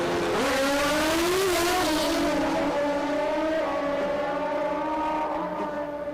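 Drag racing motorcycles, one a Kawasaki, launch side by side down the strip, their loud engines screaming and rising in pitch as they accelerate, with steady crowd-level roar throughout.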